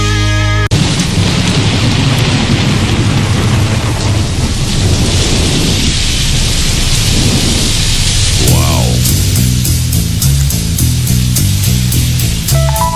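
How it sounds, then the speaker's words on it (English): Heavy rain pours down on the water during an offshore fishing tournament, a dense loud hiss with a long rolling peal of thunder through the middle, steady throughout with no talk. "Rain's coming down."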